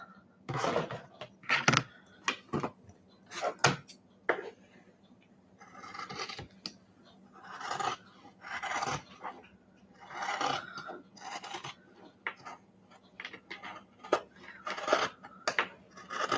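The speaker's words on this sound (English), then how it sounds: "I'm just going to draw a chalk line here" Chalk scrapes across fabric in a series of short, raspy strokes with brief pauses between them, fairly close and moderately quiet as a line is marked for cutting a lining pattern.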